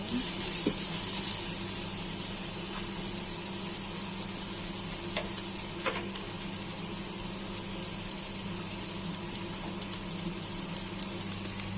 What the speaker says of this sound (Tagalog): Ilalagay ko na rin po ang ating garlic. Yan lang po natin mag-golden brown.